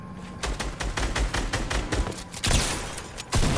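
Rapid gunfire rattles through a video game shootout, a fast string of sharp shots followed by a short pause and another heavy burst, loud and close.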